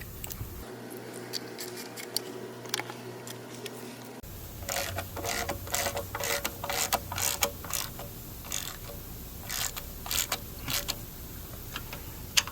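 A hand ratchet clicks in quick bursts while snugging pan bolts on a Mercedes W124 400E 722.3 automatic transmission, with rapid metallic ratcheting and small clanks close up.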